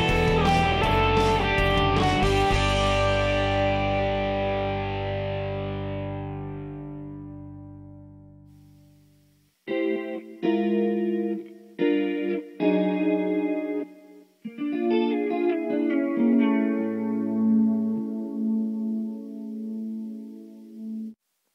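An electric guitar through a clean amp with spring reverb rings out a long sustained chord that fades, then plays short chords and notes with a shimmering, effected tone.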